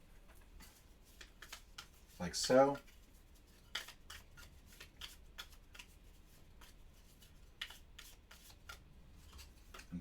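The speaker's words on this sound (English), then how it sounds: "We're going to shuffle these in" Cards for a solo Robinson Crusoe board game with a King Kong scenario are shuffled in one short, crisp riffle near the start, with a voice talking quietly over scattered soft tabletop handling.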